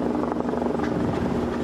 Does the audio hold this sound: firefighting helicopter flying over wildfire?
yes